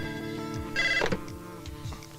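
A telephone rings in a Hindi film scene, with a brief bright ring tone rising over background music and room sound.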